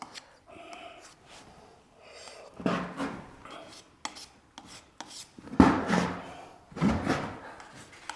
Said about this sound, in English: The spackle sanding goes really fast.